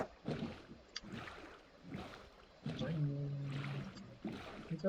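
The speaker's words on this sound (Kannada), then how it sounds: "Motor boat." In Minecraft, a motor boat moves across water with rhythmic swishing, rushing pulses. A voice talks over the boat's noise at moderate loudness.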